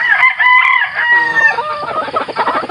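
A fighting rooster crows loudly and close, a long strained call followed by some clucking.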